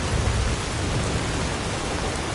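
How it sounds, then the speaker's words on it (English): Heavy rain from a storm in the video game Skyrim, a dense, steady wash of loud hissing downpour with deep low rumble, close and unbroken. "this storm is really loud in my ear"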